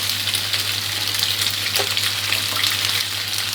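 Macaroni and chicken stir-fried in a pan give a steady, close sizzle with faint scraping of stirring throughout.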